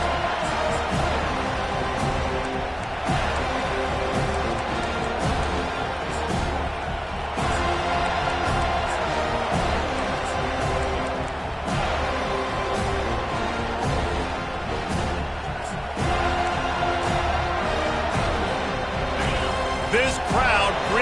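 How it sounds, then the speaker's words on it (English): A stadium crowd at an American football game gives the visiting team a loud, sustained roar that fills the background while a commentator talks over it. "This crowd bringing an ear-splitting welcome to their visitors"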